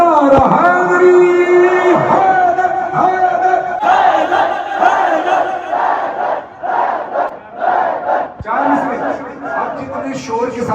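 Large gathering at a Muharram majlis with noha recitation chants religious slogans in loud unison, repeated call-and-response shouts of massed voices rising and falling in rhythmic waves, close and forceful throughout.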